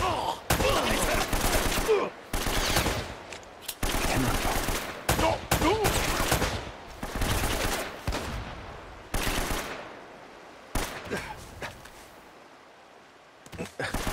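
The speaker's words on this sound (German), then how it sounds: "Warum schießen die eigentlich, während ich in Deckung bin?" Sustained automatic gunfire and rapid bursts of shots in the PS4 action game Uncharted, loud and dense with brief pauses, fading toward the end.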